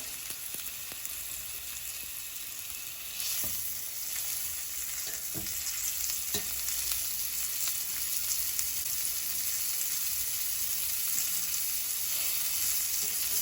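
Salmon sears in a hot pan of oil, giving a loud, dense, continuous sizzle throughout with a few faint clicks and shifts near the start.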